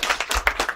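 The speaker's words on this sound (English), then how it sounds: "You can clap for all these" A brief burst of audience applause with scattered hand claps in a rhythmic patter, loud and close, at an IAEA African summer school at Chuka University honoring the trainers.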